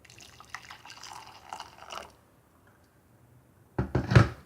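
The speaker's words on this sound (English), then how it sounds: "I'm gonna pour hot water" Hot water poured into a cup of instant Nescafe Classico coffee, a soft trickling pour for about two seconds, then a pause before a louder, splashy burst of liquid near the end.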